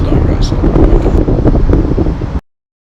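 Strong wind buffeting a handheld microphone outdoors, a loud continuous low rumble with gusty swells that cuts off abruptly.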